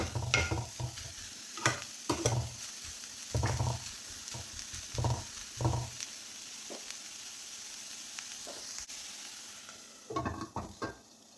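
Close stirring of onion-stalk thoran in a hot pan, with irregular bursts of scraping and tossing over a continuous soft sizzle, pausing midway before a final flurry of stirring.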